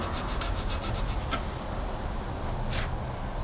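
Metal file rasping across a pot metal part, a steady run of quick rhythmic strokes up close, followed by a lone stroke after a short pause.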